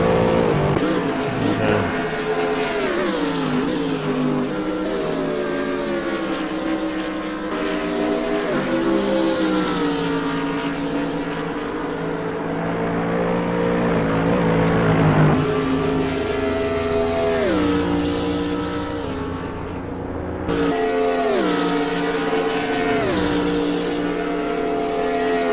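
Mercedes-Benz race car in a racing sim at Monza, its engine revving loudly and continuously with rising and falling pitch through gear changes, a brief lift near twenty seconds before pulling hard again.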